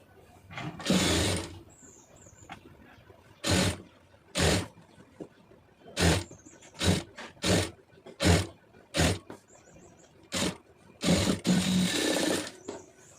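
A sewing machine stitches a blouse in a series of short whirring bursts, some longer, separated by quiet gaps, with the machine close and loud.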